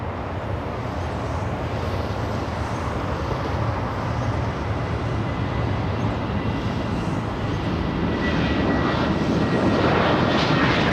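A Southwest airliner departs LAX bound for San Francisco, its broadband engine roar loud and steady throughout and swelling slightly toward the end, with no voices over it.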